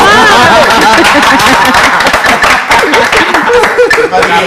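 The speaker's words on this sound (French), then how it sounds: "Applaudissez pour moi." Applause from a live audience during a French-language show, dense clapping with scattered laughter and chatter, loud and sustained throughout.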